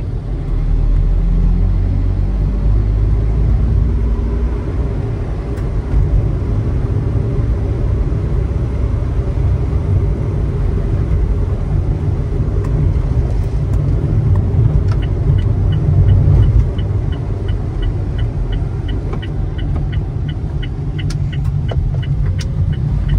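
A Japanese kei light truck's engine drones steadily as it accelerates along a road, a loud continuous rumble with road noise heard from inside the cab, no talking.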